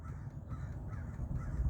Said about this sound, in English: you hear those crows going?